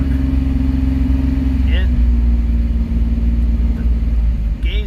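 A 1985 Pontiac Fiero engine, which has an oil leak, hums at raised revs and then settles down to a steady idle rumble, with a voice talking over it.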